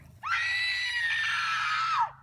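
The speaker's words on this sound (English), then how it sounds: "I heard a scream up here" A single long, shrill scream, loud and sustained for about two seconds before cutting off with a falling pitch.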